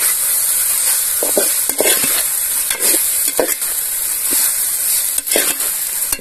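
Previously fried cauliflower for gobi manchurian is tipped into a hot frying pan and stirred, with a steady close sizzle broken by repeated scraping clatters of the spoon against the pan. No one speaks.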